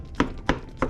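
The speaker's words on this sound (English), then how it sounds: "haphazardly, chopping and dicing a little bit" A knife chops and dices pumpkin on a cutting board as a trout meal is cooked, giving three separate close, crisp thunks spaced evenly across a second.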